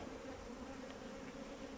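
A faint, even hum of honey bees hangs in the air at hives during acacia honey extraction, steady and distant with no voices.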